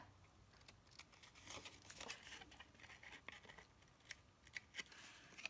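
Scissors trimming paper embellishments for a handmade Little Golden Book project, a series of quiet, close snips and light paper rustles with no talking.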